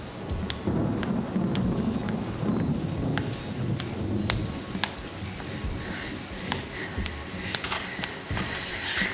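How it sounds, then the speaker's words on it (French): Steady rain hisses across the whole scene, with scattered sharp droplet ticks and a low rumbling of thunder beneath, constant and fairly close with no voices. "Putain, il pleut."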